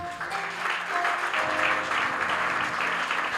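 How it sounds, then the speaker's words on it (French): A church congregation applauds in a steady, dense wash of clapping that holds at an even level throughout, with a faint hum of music beneath. "On acclame Jésus."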